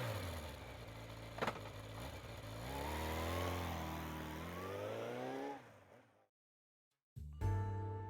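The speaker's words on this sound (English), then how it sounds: "I grab my motorcycle at my apartment and zip off to Shinza Station." In a video game, a motorcycle engine revs and rises in pitch as the bike rides off, a loud close drone that climbs, then fades to silence before a brief thump of game sound.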